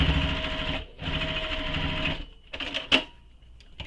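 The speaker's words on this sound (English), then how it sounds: "Lift up my presser foot, slide the zipper pull out of the way, and then continue stitching." Sewing machine stitching over a zipper, two close runs of steady buzzing needle motion with a short break between, then a few clicks and a sharp tap.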